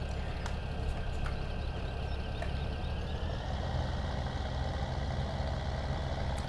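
A steady, droning video-game engine rumble of four Case tractors towing trailers runs throughout at constant level, a low mechanical hum with no pauses or talk.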